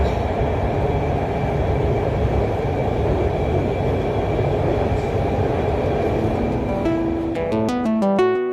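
An Orange Line metro train runs in Lahore with a continuous rumbling roll and low mechanical drone heard from aboard, followed near the end by a rising series of electronic chime tones.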